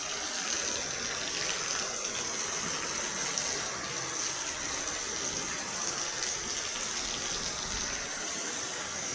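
Water gushes steadily from a running pump motor after heavy rain, a loud, continuous close-up rush with no talk throughout.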